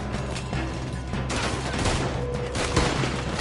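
Sustained gunfire in the video game Red Dead Redemption 2 during a shootout with a horde of enemies, dense overlapping shots and booms forming a loud continuous barrage with no pauses.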